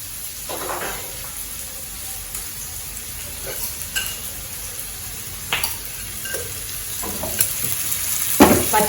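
Green chillies sautéing in a pan for Tamil-style ridge gourd masala, a soft steady sizzle with occasional stirring scrapes and clinks rising above it, close and moderately loud.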